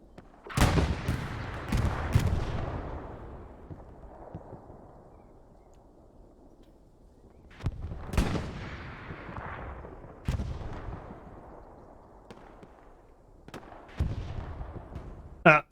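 Heavy gunfire and booming blasts in a WWII video game match with a German tank, several loud separated bursts with quieter rumbling gaps between them.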